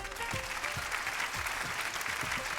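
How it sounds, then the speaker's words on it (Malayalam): Audience applause at an Onam festival chariot procession event, a sustained dense burst of many hands clapping together, fairly close and steady throughout with no talk over it. "ഒരു നല്ലൊരു കയ്യടി കൊടുക്കാം നമുക്ക്."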